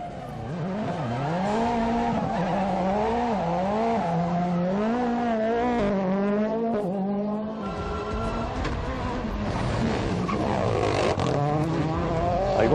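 Rally car engine in the Rally España round of the WRC, driven by Sebastien Loeb, revving hard and rising and falling through gear changes, with tires skidding and scrabbling on tarmac; loud and close throughout, with no talk.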